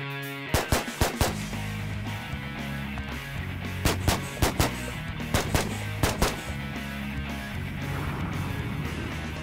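Rifle shots from a Stag Arms three-gun AR-style rifle, fired in quick pairs and short strings of sharp, loud cracks spread across the clip over steady background noise.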